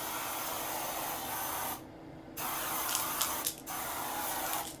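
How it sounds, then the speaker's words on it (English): A Kate Somerville spray bottle hisses in several bursts: a long steady spray, a pause, then shorter sprays with small clicks, close and fairly soft. "let's do the Kate Somerville spray"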